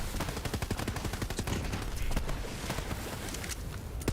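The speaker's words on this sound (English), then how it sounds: "the splash ball explosion from this gun" Splash ball explosions fired from a gun in the shooter game Borderlands 3 crackle in rapid, irregular bursts, loud and dense like continuous gunfire, with sharp impacts piling up over the whole stretch and no voice on top.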